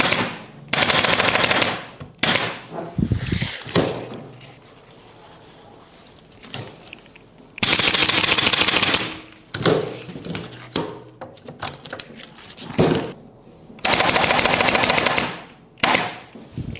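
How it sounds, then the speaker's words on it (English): A nail staple gun fires elastic webbing bands onto a chair seat frame, giving loud sharp bursts of rapid repeated shots in several separate clusters with short gaps of quieter handling between. "I am stapling the elastic bands with a nail staple gun."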